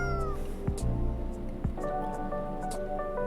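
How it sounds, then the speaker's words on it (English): A cat meows several times in the video game Coffee Talk 2, short close mewing calls over a steady background music bed. "It's just a normal cat."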